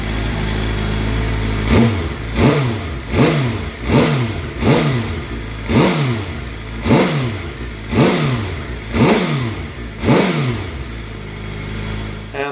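A Suzuki GSXR750 K7 motorcycle, a crashed track bike being started again, runs close by at a loud idle. The engine is blipped with about ten sharp, evenly spaced revs that rise and fall quickly.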